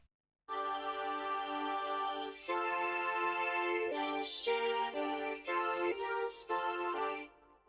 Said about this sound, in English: the vocoder effect that I was trying to show you in the other project